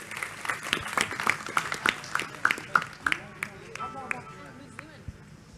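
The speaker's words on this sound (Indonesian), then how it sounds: "Tepuk tangan untuk Mbak Nia ya." An audience at a gathering with Kiai Kanjeng claps for Mbak Nia: a run of crisp, evenly spaced claps over about three seconds under voices, then fading into a murmur.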